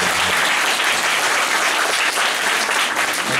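An audience claps steadily and warmly at a live talk event, a dense, even wash of applause held at constant loudness throughout with no voices standing out.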